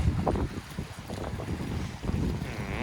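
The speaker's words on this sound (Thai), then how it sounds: "คลืนลมแรงอย่างนี้นะครับ" Strong wind gusts roar and buffet the microphone on a fishing boat at sea, with choppy waves washing around the hull, loud and continuous with no talk.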